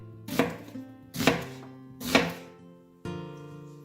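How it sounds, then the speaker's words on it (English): Half an onion sliced with a knife on a cutting board: four distinct, evenly spaced chops, close and crisp, with quiet gaps between. "Now we slice a half an onion."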